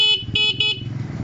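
A Barako 175 motorcycle horn gives three quick honks in a row, loud and close, over a low idling engine.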